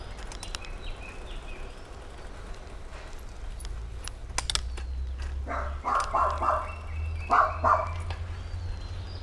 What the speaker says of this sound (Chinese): 这边也有一只小狗在那边叫。